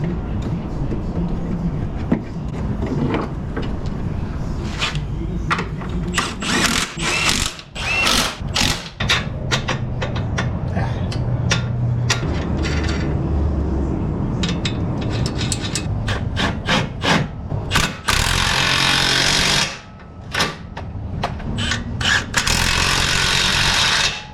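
A ratchet wrench tightens sway bar link bolts in an auto repair shop, giving loud, close, rapid clicking bursts with metallic scraping and clanks in between.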